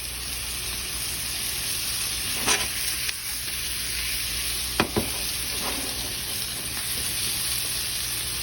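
Mushrooms, onions and garlic frying in a skillet make a steady sizzle, broken by a few sharp utensil clinks and scrapes, with no talking.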